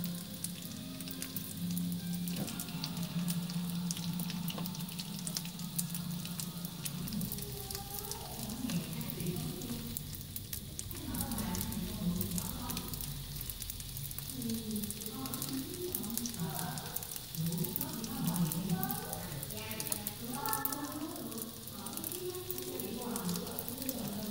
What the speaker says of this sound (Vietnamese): khi chiên các bạn lưu ý là cho lửa vừa nhé không là cơm sẽ ờ, cháy đấy